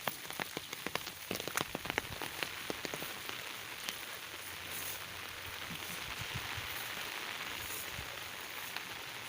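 Steady storm rain patters on a garden, with sharp scattered drips early on, then settling into an even, continuous shower.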